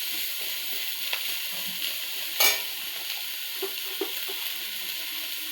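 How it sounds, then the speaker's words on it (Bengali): Finely chopped elephant foot yam stalks stir-fry with chili in a pan, a steady close sizzle with one sharp clatter midway and a few soft scraping stirs afterward, no speech. "তারপরে দিলাম এগুলো ওলের ডাল আগে থেকে কুচি কুচি করে কেটে রেখেছি ডালটাকে। এবার এপিটে পিটে নেড়ে নেব।"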